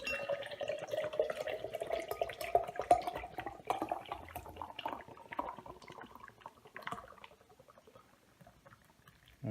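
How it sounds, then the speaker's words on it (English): Nitro blonde stout poured straight down from a can into a glass, giving a steady gurgling, splashing pour for about seven seconds that thins and fades near the end, with no talking. "And it is a nitro can, so I can just pour straight down."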